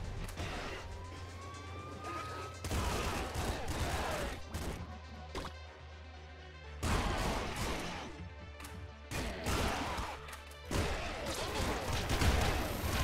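Gunfire from the video game Nuclear Throne Ultra Mod erupts in loud, noisy bursts of rapid shots and crashes, broken by brief lulls and overlaid on a steady low game hum.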